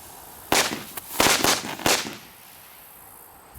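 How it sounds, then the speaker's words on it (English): A rapid string of sharp bangs from roller coaster firecrackers, about five loud cracks in quick succession, then quiet. "now we're going to do the roller coaster firecrackers."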